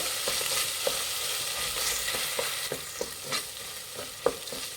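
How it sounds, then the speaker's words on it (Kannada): Ginger garlic paste frying in oil over a medium flame for a mushroom biryani: a fairly quiet, even sizzle with regular light spatula taps and scrapes, no talking. "ಎಣ್ಣೆಯಲ್ಲಿ ಮೀಡಿಯಮ್ ಫ್ಲೇಮಲ್ಲಿ ಇಟ್ಟು ಫ್ರೈ ಮಾಡಿ"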